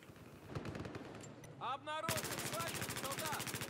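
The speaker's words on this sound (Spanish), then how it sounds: "ya nos están disparando desde arriba" Rapid automatic gunfire in the video game Battlefield 4, brisk bursts of shots under a player's commentary, with a whooshing sweep before a louder, sustained volley near the end.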